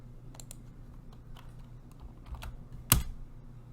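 Quick bursts of typing on a computer keyboard, a few soft scattered key clicks followed by one sharper, louder keystroke near the end, close and quiet with no voices.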